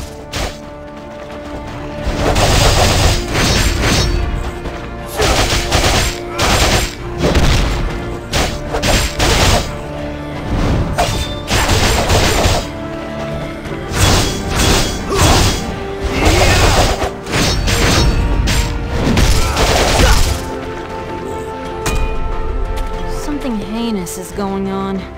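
Armed ghouls fire weapons in the mobile action RPG A3: Still Alive, with dense gunfire, crashes and thumping impacts layered over game music for most of the stretch, under a voice talking.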